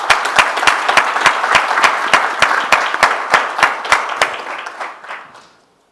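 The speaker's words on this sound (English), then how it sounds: "Let's give them a nice round of applause." A conference audience at a corporate business talk applauds with steady, dense clapping that holds for several seconds before thinning out and fading to silence.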